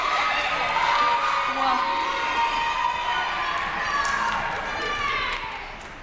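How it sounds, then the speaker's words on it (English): A university singing competition crowd claps and cheers for a singer, a loud, dense wash of applause with whoops and shouts that fades slightly at the end, with a voice speaking over it. "let's clap for her singing, then we'll clap for her dress and her shoes"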